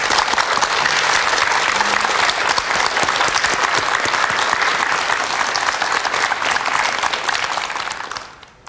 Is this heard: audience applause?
yes